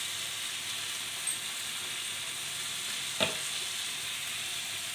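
Ground masala frying in a hot pan with ghee rice preparation underway, a steady faint sizzle and hiss with one brief stir or scrape near the end, no voices.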